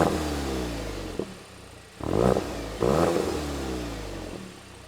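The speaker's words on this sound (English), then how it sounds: "Has an awesome exhaust note coming out the back." A 2024 Volkswagen Golf GTI 380 Edition in deep black pearl idles with a deep, rumbling exhaust note, then gives two short, loud blips of revs around the middle before settling back to a steady idle, close by and with no talk.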